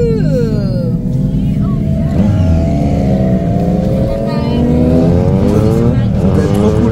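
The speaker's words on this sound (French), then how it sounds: "Ah, les motards." Motorcycles ridden by bikers pass on a Nevada road, a loud continuous engine roar with rising and falling revs as the bikes go by close, under excited talk.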